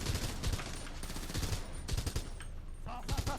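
Gunfire in GTA 5 during a roleplay shootout, with repeated bursts of shots coming in rapid clusters throughout, some close and punchy, mixed with brief voice sounds.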